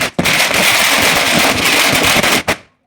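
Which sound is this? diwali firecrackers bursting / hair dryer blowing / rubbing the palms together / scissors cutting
diwali firecrackers bursting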